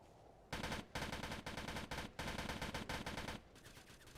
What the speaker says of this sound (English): No, it's an AK-47. It's an AK.